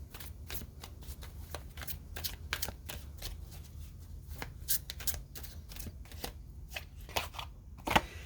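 A deck of tarot cards is shuffled close up, with rapid riffling bursts and soft slaps repeating in an irregular rhythm against a quiet background.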